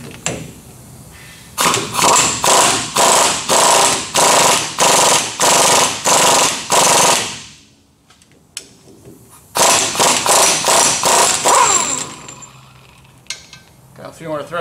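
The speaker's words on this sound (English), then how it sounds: "Now I can use my gun to run that down" A pneumatic impact gun hammers a pinion nut down on a Dodge Ram 1500 rear differential in a loud, close, rapid rattling burst lasting several seconds, then pauses amid small metallic clinks before a second long burst of hammering.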